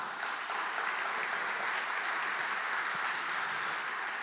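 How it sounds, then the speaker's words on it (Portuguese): Applause for Jesus from a church congregation, a dense, even wash of many hands clapping together, steady and fairly loud throughout with no talking over it. "Diga aleluia e dê um aplauso a Jesus"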